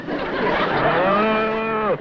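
A cow moos in one long, loud, drawn-out call lasting nearly two seconds, rising and then holding steady before cutting off abruptly, heard alone in a 1956 radio comedy scene.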